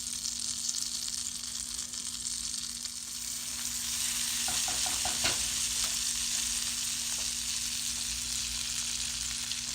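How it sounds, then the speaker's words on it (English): Butter and extra virgin olive oil sizzle steadily in a frying pan, a constant bright hiss with a few faint clinks partway through and no voices. "So we're just going to melt the butter."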